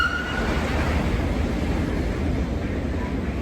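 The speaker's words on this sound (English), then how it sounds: "This is one of these incredibly long trains." A steady low rumble with broadband noise as a very long train rolls past continuously nearby in Liechtenstein, with a faint high tone early on.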